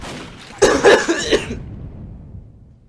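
A person lets out a short burst of three or four harsh coughs close to the microphone, then falls quiet.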